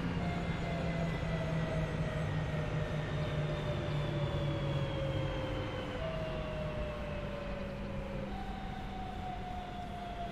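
A train stands at a station in the Train Sim World 3 game on the Birmingham Cross-City line, a steady mechanical rumble with sustained tonal whines that step in pitch, moderately loud and continuous without speech.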